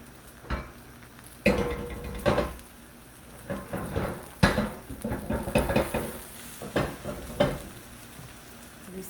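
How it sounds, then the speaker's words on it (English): Bubble and squeak in a frying pan: a soft sizzle runs underneath as several scraping clatters and thuds mark the patty being loosened and flipped, close and uneven, with short pauses between bursts. "let's see what happens when we flip it over"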